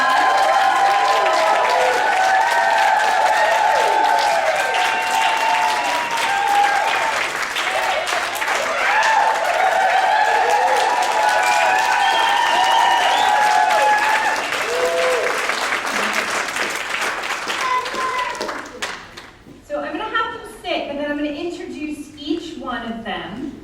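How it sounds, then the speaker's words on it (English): An audience at a train-the-trainer conference in San Antonio applauds as a panel comes up on stage, with dense sustained clapping and some cheering filling most of the stretch before it thins out and a voice speaks near the end. "Let's give them a round of applause"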